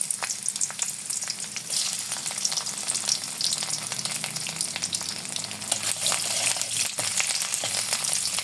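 Chopped garlic fries in oil in a wok with a steady, crackling sizzle and occasional stirring taps, close and unbroken, with no talking.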